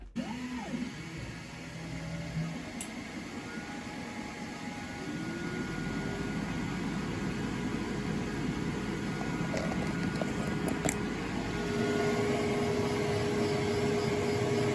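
An xTool S1 laser engraver running a job on basswood, a steady whirring fan and motor hum with faint high whines and brief ticks, close, continuous and gradually a little louder.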